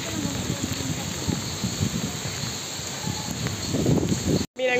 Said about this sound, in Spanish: Y está lloviendo durísimo.